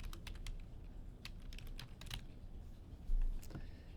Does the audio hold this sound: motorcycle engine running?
no